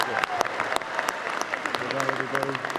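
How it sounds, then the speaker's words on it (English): Audience at the Global Climate Action Summit in San Francisco breaking into applause, brief scattered clapping rising under a speaker's voice. "Give them all a big round of applause."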